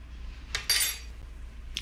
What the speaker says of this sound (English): put 1 spoon of salt in here